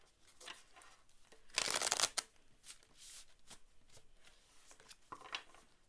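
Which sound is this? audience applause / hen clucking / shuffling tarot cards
shuffling tarot cards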